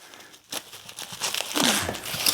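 Plastic bubble wrap packaging crinkles and rustles in close, busy bursts for a couple of seconds, loud and near, with no talk over it.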